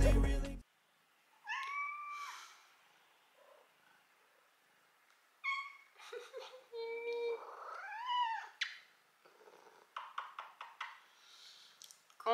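A small black kitten gives a string of high, wavering meows, some drawn out and rising, separated by pauses, heard close and fairly soft with light tapping noises between the calls.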